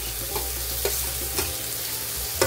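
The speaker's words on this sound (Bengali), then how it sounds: "পেঁয়াজগুলো আমি হালকা ব্রাউন করে ভাজার জন্য দিয়ে দিলাম।" Chopped onions fry in hot oil in a pan, giving a steady close sizzle with brief scraping stir strokes repeating every half second or so, and no talk.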